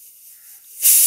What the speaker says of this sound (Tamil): ஆ 3 விசில் வந்துருச்சுங்க.